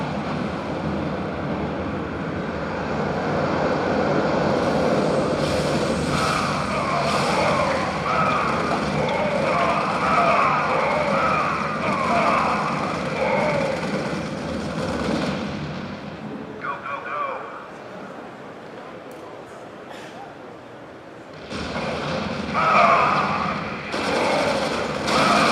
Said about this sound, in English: Now we're going to show you the drop pods. This allows the Ghost to summon squads of infantry anywhere on the battlefield.